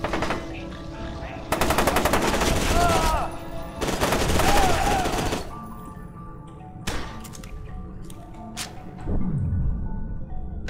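Bursts of automatic gunfire from a video game, F.E.A.R. 2, as a full magazine is emptied: two long sustained rattling volleys, then scattered single shots and thuds with a game music bed underneath.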